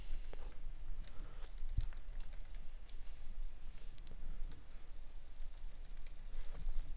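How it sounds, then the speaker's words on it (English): Typing on a computer keyboard while filling in an Excel billing statement template: a steady patter of quiet, close key clicks, fairly soft and continuous, with no talking. "type in a street address,"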